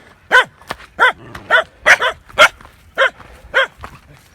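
Several dogs bark nearby on a trekking route, about ten clear barks spread steadily across the moment, some doubled. Faint background stirrings lie between them.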